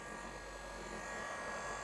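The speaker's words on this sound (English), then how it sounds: "we will start the machine. So this is the speed in" A Lidl Parkside cordless angle grinder runs steadily at its lowest speed setting, a continuous close electric whine with a faint hum and no talk.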